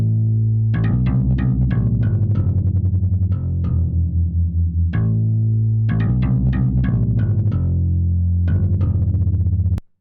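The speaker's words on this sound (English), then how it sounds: "After this, I added this bass line, which goes something like this." Synth bass line for a 2000s-style pop-R&B track plays alone, a loud repeating pattern of punchy plucked notes in a steady groove with sustained low tones between phrases, ending abruptly.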